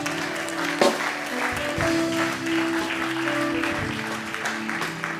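A church congregation applauding the Lord, a broad wash of clapping that swells and holds steady under sustained music tones, filling the space throughout.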